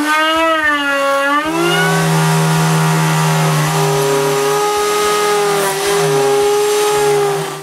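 A panel router cutting tenons in wood gives a loud, continuous high-pitched motor whine. Its pitch dips and recovers as the bit bites into the workpiece, alongside intermittent low knocks.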